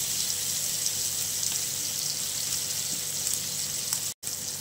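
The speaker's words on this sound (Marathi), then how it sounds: "जो लावलेला मसाला आहे त्यामध्येच हा अशा प्रकारे फ्राय करून घेणार आहे" Indian mackerel (bangda) fries in spice masala in a pan, giving a steady, close, loud hiss of sizzling oil that runs unbroken with one brief dropout near the end.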